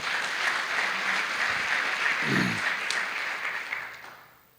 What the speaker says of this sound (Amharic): እስቲ ከፍ ያለ ጭብጨባና እልልታ ለእግዚአብሔር